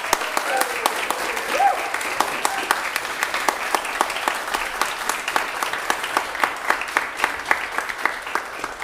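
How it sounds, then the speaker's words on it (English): An audience applauds a band conductor at a youth brass band concert, sustained, loud, dense clapping that runs evenly the whole time with a few sharper individual claps standing out. "I'd like to hear you all giving Gareth another round of applause."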